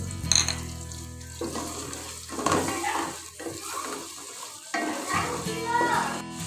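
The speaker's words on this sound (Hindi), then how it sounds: "प्याज को फ्राई कर लेंगे और इसमें गरम मसाला और जीरा डाल देंगे" Steady sizzling of onions frying in a pan with garam masala and cumin, with stirring scrapes and some running-water sounds, close by and moderately loud.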